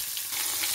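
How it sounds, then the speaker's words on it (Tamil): Sliced onions frying in a pan with cumin seeds and dal in hot oil give a brief, close, even hiss of sizzling with no other sounds or voices. "வெங்காயம் போட்டுக்கலாம்"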